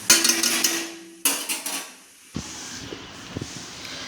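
Chowmein stirred in a kadai with a spoon and spatula makes metallic clatter and scraping in bursts, with sharper knocks of utensil on pan toward the end.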